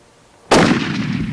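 A single loud rifle shot fired at game low in the grass during a hunt cracks suddenly after a quiet moment, then rolls away in a long echoing tail.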